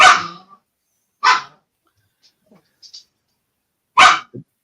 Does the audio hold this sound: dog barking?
yes